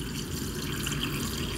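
Liquid pours steadily into a container in a continuous, full gushing stream that stays loud and even from start to finish, with no talking over it.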